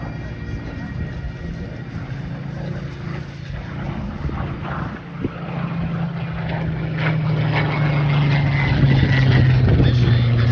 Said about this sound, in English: From the right, the Spitfire Mark 18.